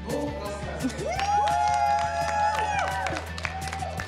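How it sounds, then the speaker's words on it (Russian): Theatre audience at a comedy team competition show applauding, steady clapping with some cheering, moderately loud and sustained throughout. "Индикатор этого – зрительские аплодисменты."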